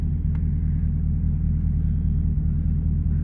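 A Chevrolet Camaro ZL1 1LE pulls away in first gear on a rainy late night, its engine a steady low rumble heard from inside the car, continuous and fairly loud with no talking.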